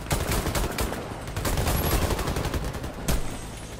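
Rapid bursts of gunfire from the online shooter Warface, a dense, continuous fusillade of shots with a few sharper cracks standing out, loud and close throughout.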